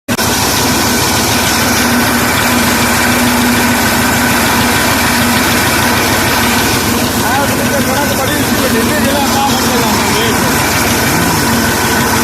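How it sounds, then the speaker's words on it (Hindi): A 1986 Massey 240 tractor engine runs in a sugarcane field, a loud, steady, close-up diesel chug with constant vibration throughout. "हम इस ट्रैक्टर में आ गए हैं और एक ट्रैक्टर उधर चल रहा है"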